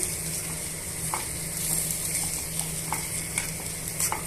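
Spice mixture with powdered asafoetida stirred in a hot pan for a pickle, with soft sizzling and repeated light scraping and tapping of a spoon, close and continuous.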